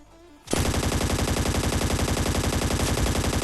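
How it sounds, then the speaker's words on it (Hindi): Rapid automatic gunfire in the video game Scarfall 2.0 erupts and keeps going in a steady, loud, fast rhythm with a punchy sound, no speech over it. "अब देखो गन साउंड तो भाई सामने की साइड भी आ रहे थे"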